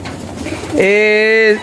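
A pigeon gives one loud, close, drawn-out coo, steady and tonal for about a second, following a stretch of low, muffled background noise.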